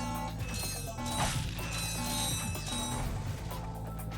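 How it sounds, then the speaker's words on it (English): Bolts get collected in the Ratchet and Clank video game, a busy run of metallic clinking and ratcheting pickup chimes over game background sound, steady for several seconds with no talking. "Yay, more bolts. I'll take them."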